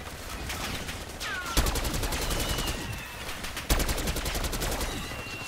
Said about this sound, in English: So this sentry gun's putting in work